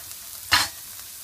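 A homemade beef hamburger patty hits a hot nonstick pan with no added oil, a single brief sizzling burst that flares up and quickly settles back to quiet.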